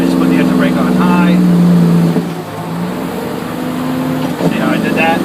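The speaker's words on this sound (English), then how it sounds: "Just put the engine brake on high." A truck's engine brake set on high, a loud droning engine roar with a steady low tone that dips briefly after a gear change, then resumes; someone talks over it.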